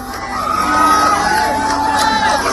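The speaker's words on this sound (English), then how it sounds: "Supporters start chanting Kirk's name ahead of his appearance." A crowd of about 3,000 supporters at an outdoor political rally cheers and whoops continuously, loud and dense, with shouts rising above the roar.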